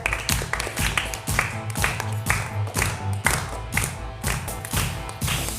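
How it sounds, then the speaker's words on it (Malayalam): An audience claps steadily for a young girl called up to perform on a TV show, a dense, even patter of many hands with a few louder claps, continuing throughout. "ഒരു ക്ലാപ്പ് കൊടുത്ത കൊച്ചിന്"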